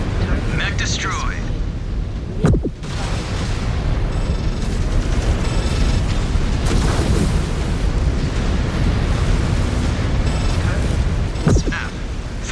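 A mech blowing apart as it is destroyed in MechWarrior 5: Clans, a heavy rumbling blast amid constant battle noise, sharp bangs and ongoing weapon fire, with radio voices speaking over the din.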